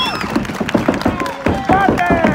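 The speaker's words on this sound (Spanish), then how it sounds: "¡El aplauso para Rancho Rodríguez!" A crowd cheers and claps at a ranch tournament in Plaza Dos Hermanos, with shouted voices and whistles over a steady, loud, dense roar.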